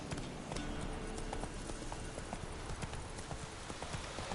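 Horse hooves galloping in The Witcher 3, a fast steady clip-clop rhythm of hoofbeats, fairly quiet and continuous with no voices over it.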